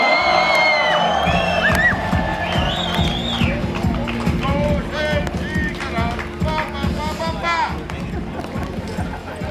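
At an outdoor welcome reception in Oberstdorf for ski jumper Johannes Rydzek, a large crowd cheers loudly, with whoops, whistles and rising shouts over dense babble and clapping that slowly settles, while people talk close by.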